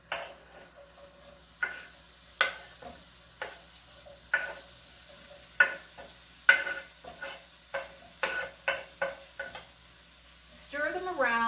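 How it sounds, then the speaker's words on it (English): Sliced onions frying in a pan of butter and olive oil, with a low steady sizzle broken by repeated scraping and clacking stirs of a utensil against the pan, close and fairly quiet. "Stir them around for a while until everything is coated and they're all separated."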